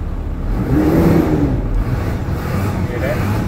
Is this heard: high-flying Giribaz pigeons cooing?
no